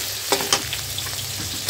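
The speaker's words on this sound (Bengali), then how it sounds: "তো কিছুক্ষণ ভেজে নিলাম সময় নিয়ে।" Dried shutki fish fries in a pan, a steady close sizzle broken by a few sharp stirring scrapes, with no one talking.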